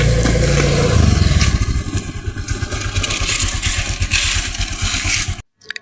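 A motorcycle engine runs close by with a rough, steady putter and scraping, rattling texture, continuing for several seconds before cutting off abruptly near the end.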